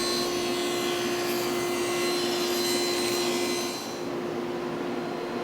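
A power saw cuts the factory edge off a panel for casework, a loud continuous whining buzz with a steady tone that drops slightly as the cut ends.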